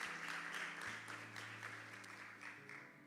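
A church congregation at a Wednesday evening service breaks into applause, a soft, fairly distant patter of many hands that keeps going steadily under faint background tones.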